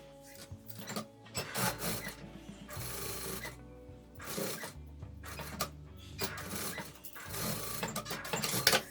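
Sewing machine stitching a zipper onto a fabric pencil case, whirring in several steady bursts separated by short pauses, close and moderately loud, with no talking.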